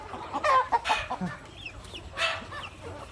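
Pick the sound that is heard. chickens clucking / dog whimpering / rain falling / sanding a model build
chickens clucking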